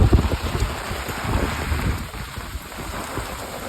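Heavy rain pours down steadily at night, with gusty wind buffeting close to the microphone and water coming through a metal sheet roof.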